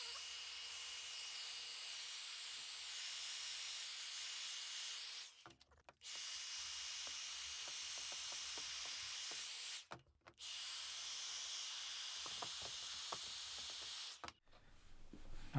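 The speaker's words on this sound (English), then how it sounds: "I think if you hit it with the heat gun." A heat gun blows on the skin wrap of a rifle stock, giving a steady loud hiss that cuts out abruptly three times with short quiet gaps and light handling clicks between.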